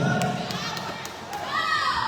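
A basketball free throw during a penalty shot at a local game, with several sharp ball thuds spaced across the moment over a lively crowd and children's voices in the background.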